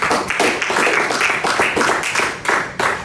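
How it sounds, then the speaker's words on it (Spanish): Church congregation clapping during a Spanish-language sermon, a steady run of loud, dense handclaps with rhythmic pulses filling the space, no speech over it. "Dele un aplauso, Señor."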